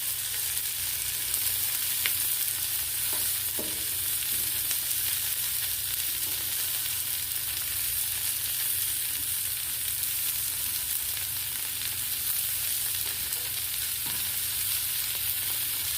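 Chicken drumettes frying in oil on a Blackstone flat-top griddle, a steady, dense sizzle running unbroken throughout with a few faint clicks of handling, no voices.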